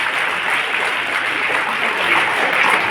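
Loud, steady applause from an audience clapping for school children at a government senior secondary school event, a dense, continuous patter with no speech over it.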